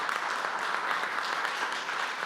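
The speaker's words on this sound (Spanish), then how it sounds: "y un aplauso grande para ellas." An audience at a building-administration talk claps for a Colombian team of women, steady moderate applause heard from a distance and continuing evenly throughout.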